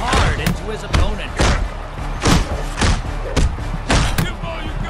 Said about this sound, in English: Reed slams hard into his opponent.